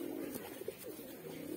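A white pigeon coos softly nearby, a low throaty murmur with a couple of brief rounded notes over faint background hiss.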